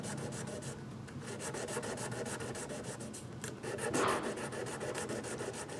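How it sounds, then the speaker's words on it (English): Light, even rubbing of 1200 grit sandpaper across the frets of a B C Rich KKV electric guitar, close and quiet, with steady back-and-forth strokes and a brief louder pass near the end. "1200 grit sandpaper, and I'm just going over the frets really lightly to get the dirt and a little bit of corrosion off"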